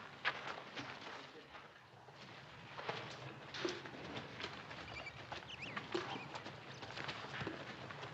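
Horse hooves clip-clop at a steady walking pace through a scene from an old western TV drama, with brief faint voices mixed in beneath the hoofbeats.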